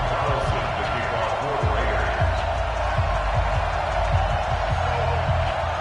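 A stadium crowd roars steadily in an EA Sports NFL game as the Oakland Raiders meet the Denver Broncos. A dense, continuous crowd wash carries repeated low thumps, and a commentator's voice can be heard over it.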